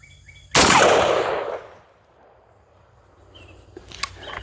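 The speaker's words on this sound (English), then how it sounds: "we'll put my finger on the target or on the trigger, and then we'll shoot" A single loud rifle shot cracks sharply close by, then rolls away in a long decaying echo, with quiet outdoor ambience before and after.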